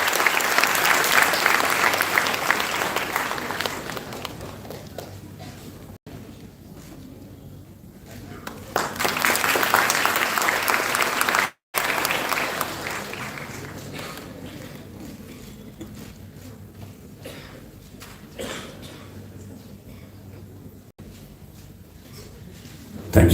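An audience at a college opening ceremony applauds the principal of St. Xavier's College, Calcutta, in long sustained waves of clapping that swell, ease and swell again.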